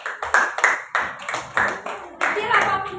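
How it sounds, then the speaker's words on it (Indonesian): A classroom of students claps for a group after its presentation, short bursts of scattered hand claps rising and falling in several waves, close by, with a voice speaking between them. "tepuk tangan buat kelompok"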